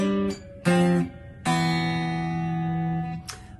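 A few plucked guitar figures in fifths, including a slide up into a fifth on the 4th and 3rd strings that rings long and decays slowly, close and clear with no voices.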